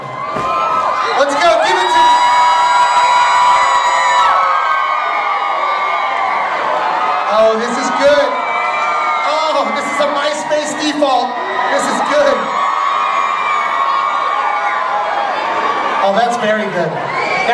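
A large crowd screams and cheers loudly and continuously, with high-pitched shrieks and whoops rising and falling throughout.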